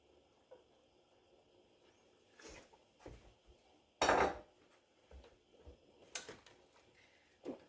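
A utensil stirs broccoli and rice in a pot of boiling water, making soft scattered scrapes and clinks against the metal, with one louder clatter in the middle, all quiet and close.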